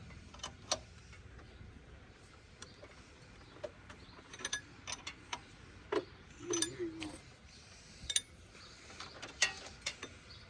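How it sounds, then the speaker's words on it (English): A ratchet wrench clicks in short, uneven bursts on a power steering pump bolt, with faint mechanical ticks and metallic taps under a quiet background. "Maybe I'm going the wrong direction with the ratchet."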